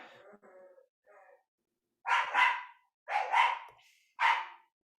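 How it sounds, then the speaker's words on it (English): A dog barks three times in close succession, loud and nearby, after a stretch of quieter sound with no talking. "Sorry, barky dog."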